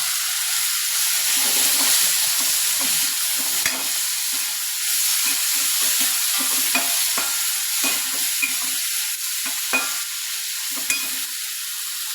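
Food fries in a pan with a loud, constant hiss of sizzling oil and occasional soft stirring clicks, close and unbroken throughout.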